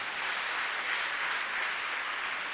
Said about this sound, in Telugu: గట్టిగా చప్పట్లు కొట్టారు